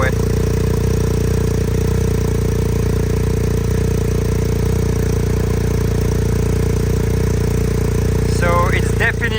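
A cold BMW R1250R motorcycle fitted with an SC Project full carbon exhaust runs with a loud, steady engine drone throughout, and a voice breaks in briefly near the end.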